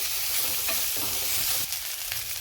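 Potato pieces fry in a pan, sizzling loudly and steadily with scraping strokes of a spoon stirring them through the hot oil.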